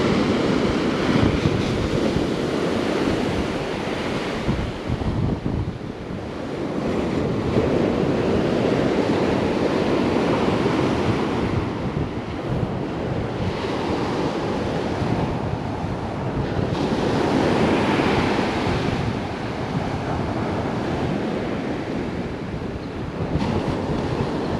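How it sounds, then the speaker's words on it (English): Ocean surf on a Carolina beach as the tide comes in, with waves rolling and washing ashore in slow swells under constant wind noise buffeting the microphone, no voices. "the waves are reaching a little further up and a little further up."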